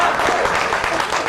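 An audience at a Hindi comic poetry gathering for Vishwakarma Jayanti breaks into applause, a continuous wash of many hands clapping, with a voice faintly mixed in.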